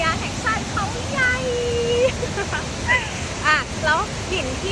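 Haew Suwat waterfall in Khao Yai National Park, a steady broadband rush of falling water that continues throughout, with someone talking over it at close range.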